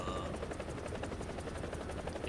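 An AH-1G attack helicopter in the War Thunder video game gives off a fast, steady rotor chop, a loud pulsing whump that stays constant through the short moment.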